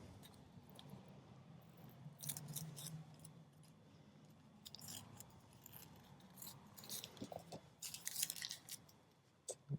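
Scissors trim excess medical exam paper for a mixed media card, giving soft, close snipping and crisp paper rustles in brief bursts over quiet room tone.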